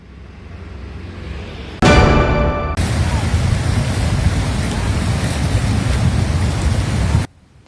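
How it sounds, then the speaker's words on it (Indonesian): Heavy rain pours down as a dense, loud, steady roar that starts abruptly and holds for several seconds before cutting off, with a brief crackling burst near the start. "Hujan deras yang terjadi pada Senin malam menyebabkan meluapnya Sungai Batangguo"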